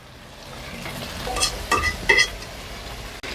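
A small fish curry is stirred in a pan, with a soft background sizzle and a few brief scraping clinks of the spoon against the metal.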